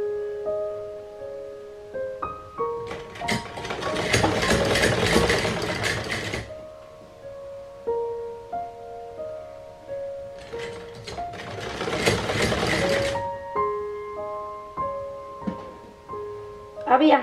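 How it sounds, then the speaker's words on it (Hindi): A sewing machine stitches a strip for the ties of a baby cap in two bursts of several seconds each, running fast and steady, with soft background music throughout. "अब यहाँ से इस तरीके से रखकर सिलाई करेंगे, यानी पट्टी पे यहाँ से रखकर सिलाई करेंगे।"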